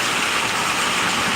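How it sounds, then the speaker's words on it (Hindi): Heavy monsoon rain pours steadily in Bengal, a dense continuous hiss of water falling on surfaces, loud and close with no pauses. "अरे बारिश"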